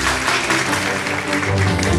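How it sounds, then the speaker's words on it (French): An audience applauds a debate candidate, a dense, steady burst of clapping filling the room throughout. "On l'applaudit."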